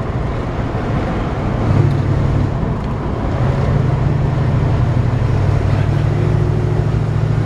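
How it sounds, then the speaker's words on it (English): A 1967 Chevrolet C-10 pickup with a 350 turbo automatic transmission drives slowly along a neighborhood street, its steady engine drone rising in pitch as a gear change comes through near midway, then settling into a low even hum. "Clean shifting Chevy 350 turbo transmission."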